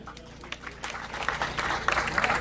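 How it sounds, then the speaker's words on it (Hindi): Crowd applause at a public village rally in Haryana, a broad wash of clapping that builds and thickens over a couple of seconds, moderately loud and continuous. "एक बार जोरदार तालियां हो जाएं।"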